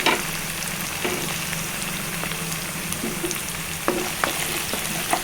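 Bitter gourd fry with onion, green chilli and kasuri methi sizzles in a pan with an even crackle, broken by a few sharp spoon knocks and stirring scrapes, with no talk.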